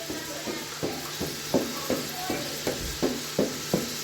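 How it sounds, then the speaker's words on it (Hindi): Sarson ka saag stirred in a pot, the spoon scraping in a steady rhythm of about three strokes a second over a constant sizzling hiss, with no one speaking. "अब ये देख सकते हैं कि साग को जो है ना मिक्स किया जा रहा है"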